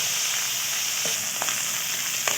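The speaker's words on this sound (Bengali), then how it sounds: "মাছটা এবার একটু ভাজা হয়ে গেছে" Small fish sizzle steadily in hot oil as they are stirred, with a few soft utensil scrapes and pops over the continuous close frying hiss.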